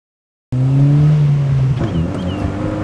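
A Honda Fit GD3 hatchback drives off after a half-second of silence, its engine note loud and close with a steady low drone and rising harmonics, then easing to a lower hum as road noise fills in.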